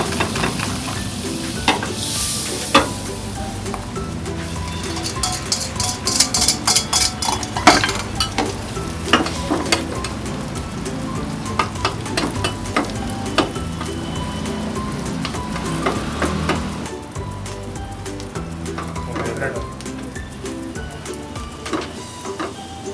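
Butter, onions and kebab pieces sizzle loudly on a hot griddle at a Delhi egg omelette stall, with steady frying hiss broken by frequent scraping and clinking of a metal spatula.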